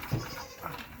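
A goat bleats once, short and fairly close, while being weighed during a check on goats for coccidiosis prevention; a low background murmur fills the rest.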